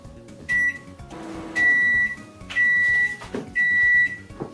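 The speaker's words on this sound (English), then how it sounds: "put it in the microwave for 20 seconds" A microwave oven melting butter for baking carrot muffins, its low hum running continuously under four loud, evenly spaced beeps.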